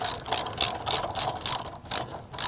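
A ratchet tightens the front brake pad pins on a 2007 Suzuki GSX-R1000 during a Galfer pad install, giving several quick bursts of close, crisp clicking separated by brief pauses.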